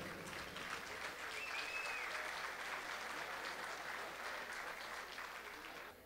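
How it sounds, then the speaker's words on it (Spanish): An audience at a national song contest final applauds steadily, a dense, even wash of clapping with a faint whistle partway through. "vamos a brindar un aplauso muy cariñoso"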